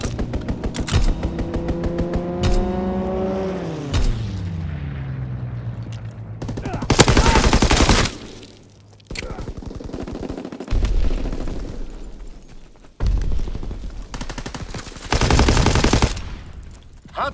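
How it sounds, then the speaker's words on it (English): Gunfire from an enemy strafing run during a Hardpoint match in Call of Duty WW2 on PS5, with a descending engine whine followed by several loud, sustained bursts of rapid fire and explosions, mixed with in-game voices. "Enemy strafing run inbound."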